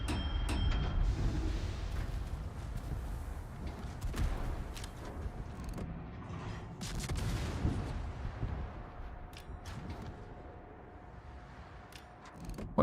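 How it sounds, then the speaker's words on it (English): Naval gunfire from an enemy warship in World of Warships, a dense, continuous barrage of booming shots and rumbling impacts at moderate level, sustained throughout with no talk. "Bamboo Cha is shooting at me."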